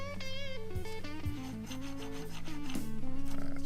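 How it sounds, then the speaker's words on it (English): Hardened metal surfaces of a homemade tool for a lathe tool post rubbing and scraping together, a continuous rasping grind with shifting pitch, close and steady throughout. "Hardened surfaces coming together."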